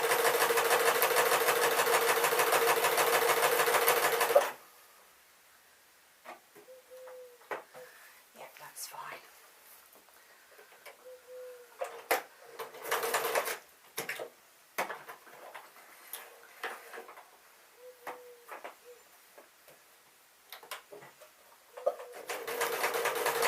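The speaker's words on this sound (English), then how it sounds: "now I am sewing down the sides" A newer-model household sewing machine stitches a pink dress with a loud, steady whir for the first few seconds, then stops, leaving a quiet room with scattered clicks and handling noises and brief bursts of renewed stitching.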